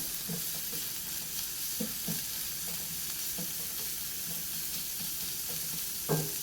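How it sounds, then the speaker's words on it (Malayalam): Sliced onions sauté and sizzle in a pan while a spoon stirs them, with a soft continuous frying hiss broken by regular scraping strokes and one louder clack near the end. "ഇത് ഇളക്കി മിക്സ് ചെയ്യാം. സവാള ഒന്ന് വാടി വരട്ടെ."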